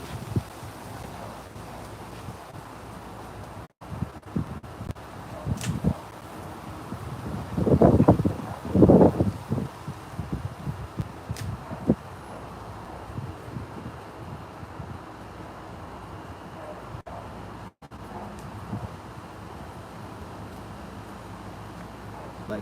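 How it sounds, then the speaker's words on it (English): Gusting wind blows outdoors among potted mulberry cuttings and a mango plant, a steady rumbling buffet across the mic with a louder gust swelling near the middle, faint rustling around it. "it is a little windy"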